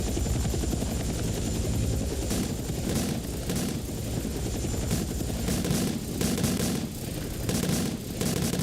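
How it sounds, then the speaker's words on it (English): A helicopter flies close overhead with a loud, continuous rotor thump, while bursts of gunfire break through at intervals. "We're gonna mark a chopper."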